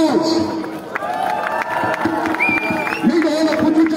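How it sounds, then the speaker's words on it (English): Crowd of lawyers and pupils at a peaceful march in Putrajaya cheering and clapping outdoors, a loud mix of shouts, whoops and scattered voices with some clapping throughout. "can we first give ourselves a big round of applause?"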